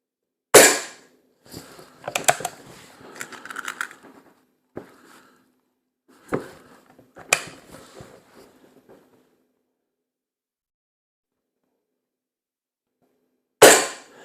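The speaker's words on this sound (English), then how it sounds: "Let's put two pellets through the same hole, smack in the middle of the target." An SMK XT501 .22 CO2 air rifle fires pellets at a target, giving sharp loud cracks at the start and near the end, with clicks and handling noises between and quiet stretches.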